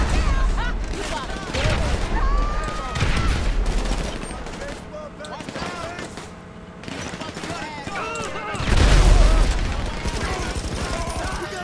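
Bursts of gunfire rattle through a GTA 5 Online match, with a deep grenade boom landing near the end; a voice talks over the busy game audio.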